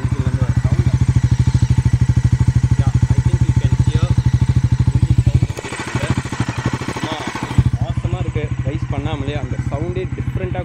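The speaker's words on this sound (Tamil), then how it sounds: "அதனால் இப்போ எக்ஸாஸ்ட் சவுண்ட் வந்து நைட்டில் கேட்டு பாருங்கள்." A Bajaj Pulsar NS400Z sits idling in neutral at night, its exhaust giving a loud, close, rapid even thumping that briefly softens midway before the steady beat returns.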